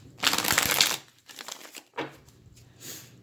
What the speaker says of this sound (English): Let me shuffle real quick here.